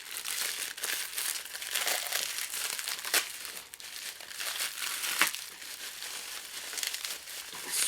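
Paper crinkles and crumples continuously as a well-wrapped gift package is unwrapped, close and busy with occasional sharper tearing crackles, no talking.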